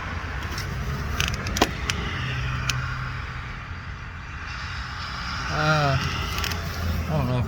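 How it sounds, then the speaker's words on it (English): Road traffic rolls past near a BMW E90-series car being worked on, a steady low rumble and broadband wash that swells slightly toward the end, with a voice present. "Got a lot of traffic coming by."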